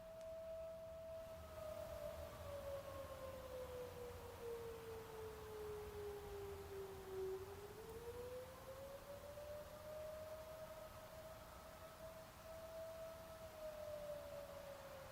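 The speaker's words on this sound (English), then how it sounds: "What is that siren?" A civil defense siren wails steadily through the early-morning air, its single tone sliding slowly down and back up over the whole stretch, fairly distant but clear above a constant low background hum.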